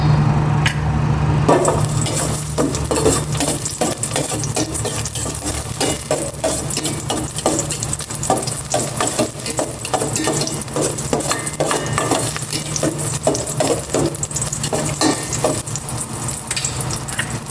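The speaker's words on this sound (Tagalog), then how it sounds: "Maglagay na ako ng cooking oil. Gisa ko na itong bawang." Garlic sautéing in hot cooking oil gives a steady, close sizzle with frequent clinks and scrapes of a utensil stirring the pan, continuous for the whole stretch with no talking.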